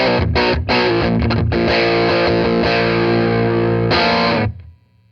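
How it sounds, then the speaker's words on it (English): Armored Amplification Little Rascal low-watt combo amp driven on its internal distortion with gain near 4 o'clock and a bridge pickup, dense sustained distorted guitar chords and riffs, loud and close, cutting off into silence at the end. "let's hear the internals amp distortion"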